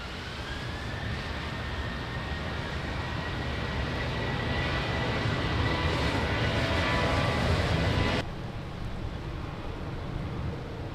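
Airliner taking off from runway 20 at Lisbon Airport in rain, a loud, sustained engine roar with a rising whine that builds steadily before cutting down abruptly near the end.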